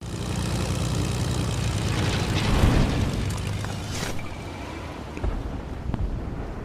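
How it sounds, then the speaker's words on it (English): A plane in the video game Fortnite drones steadily with a propeller-like engine rumble, loud and continuous, while a few dull booms thud in the background. "Just grab a plane, fly up, and retake that mountain."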